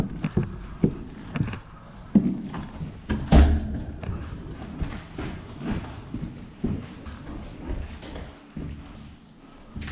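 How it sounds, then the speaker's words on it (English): Footsteps thump on a building floor during an airsoft sniper match, a run of muffled, uneven thuds and scuffs that come close and loud at times over a busy background, with no clear talk. "I can hear footsteps below me."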